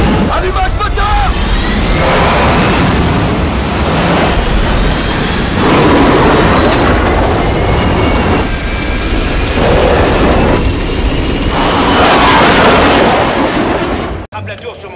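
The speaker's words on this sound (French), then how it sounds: "Allumage moteur!" Spaceship main engines ignite in a science-fiction film, a massive, roaring blast of rumbling thrust with rising whines and booming surges that sustains loudly throughout before cutting off abruptly, with voices under the din.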